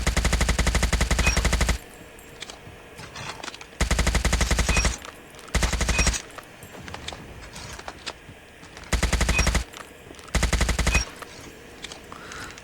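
HBRa3 assault rifle fired in a video game: loud sustained full-auto bursts in four separate strings, each lasting about a second or more, with quieter game ambience between them.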